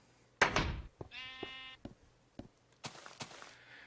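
A sheep in the Minecraft video game bleats once with a clear wavering cry, between louder thuds and clatter, and no voices are heard.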